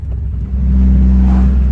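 A Mitsubishi Eclipse engine held at high revs during a hard acceleration pull, a loud, steady mechanical drone that swells slightly after the first half second and carries on without a break.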